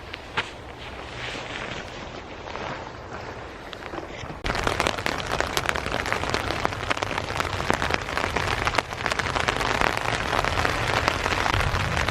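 Steady rain patters on a tarp shelter at a wild camp in Thetford Forest, a dense close hiss of drops that grows noticeably louder partway through and carries on without a break.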